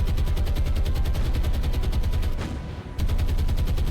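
Rapid warship gunfire in the naval game War on the Sea, Mediterranean campaign: a dense, fast repeating rattle of shots, loud and close, breaking off briefly before resuming.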